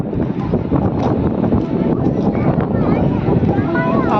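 Sea wind at Digha beach rushes and buffets the microphone in a constant loud roar, with people talking close by under the gusts.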